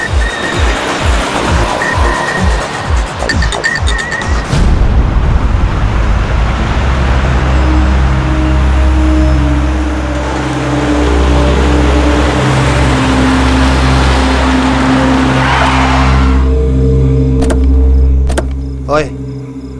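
A car being driven, its engine a steady low rumble with road noise throughout, and a brief rattling passage near the start. Faint clicks can be heard toward the end.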